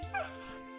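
A dog in Fate/Grand Order gives a single short, high yip close up, fading quickly into a soft whine-like tail.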